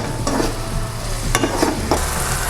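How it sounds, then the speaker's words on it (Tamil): A pan of thick masala for bread masala toast gently simmering and sizzling, with occasional stirring scrapes, close and steady, no talking. "கொஞ்சம் நேரம் இது கொதிக்கட்டும்"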